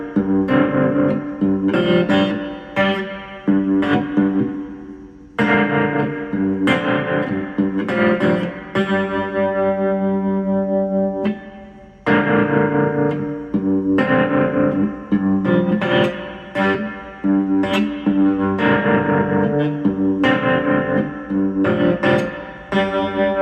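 A cigar box guitar plays a greasy, syncopated blues groove drenched in reverb, loud and close, with repeated strummed chords and brief pauses between phrases, notes ringing and hanging in the air.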